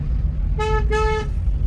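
A car horn honks twice in quick succession at a hill road bend, short bright toots over the low rumble of an engine from inside the vehicle.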